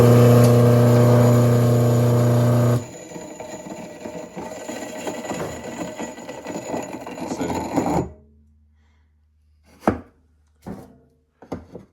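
An Excalibur flour mill runs with a loud, steady grinding whir for about three seconds, then drops to a quieter, rattling run and stops near eight seconds, followed by a few sharp clicks and knocks.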